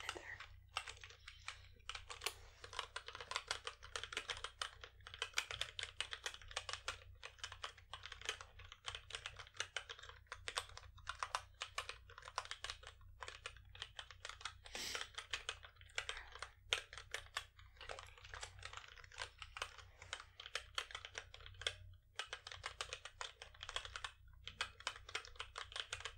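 Steady close typing on a computer keyboard, rapid soft key clicks in uneven bursts with brief pauses, quiet and intimate in an ASMR setting.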